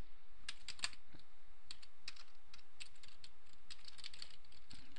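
Steady, fairly quiet typing on a computer keyboard while entering a question label in statistics software: rapid, irregular key clicks run continuously throughout with no speech.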